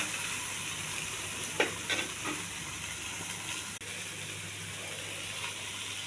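Chopped ridge gourd pieces frying with onion in a pan, an even moderate sizzle throughout with a few soft stirring scrapes, no speech.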